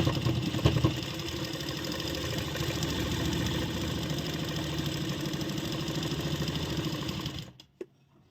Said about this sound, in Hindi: उस निशान पे सिलाई शुरू कर देंगे लगानी